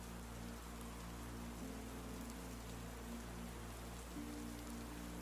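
Soft, steady rain patters on leaves and tent roofs, a continuous gentle hiss over a low background hum, with no voices.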